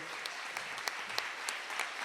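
An audience at a union tribute ceremony applauds a Minas Gerais honoree with steady, moderately quiet clapping, a few sharper individual claps standing out from the even wash.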